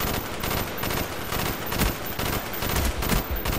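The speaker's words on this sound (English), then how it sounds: "I didn't realize this was actually a burst weapon." Burst-fire weapon shots in Call of Duty Black Ops multiplayer, several quick clustered cracks repeating over a constant dense backdrop of game noise, fairly quiet overall with no talking.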